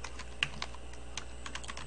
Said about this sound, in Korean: 다시 한번 타이핑을 할까요?